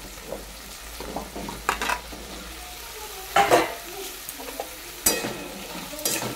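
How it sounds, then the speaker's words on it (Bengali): Potatoes frying with onions in a pan for a fish curry, a low sizzle broken by several sharp scrapes and clatters of a spoon stirring against the pan. "পেঁয়াজের সাথে আমি আলুগুলো এইভাবে ভেজে নেবো"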